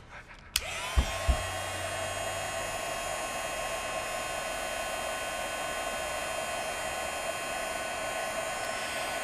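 Heat tool melting clear embossing powder on brads: a click and brief handling noises, then a steady, close whirring blower hum that runs unchanged to the end.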